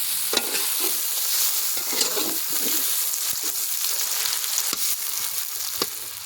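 Food frying in a pan at an outdoor New Year picnic, a steady bright sizzle with occasional scraping stirs and spatula clicks, close and continuous with no talking.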